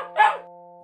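One short, sharp bark from a puppy rises above a steady musical hum, with no other sound after it.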